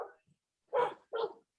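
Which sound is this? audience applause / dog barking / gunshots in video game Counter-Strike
dog barking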